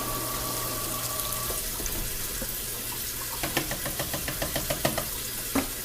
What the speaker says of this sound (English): we're going to put some water in our slow cooker too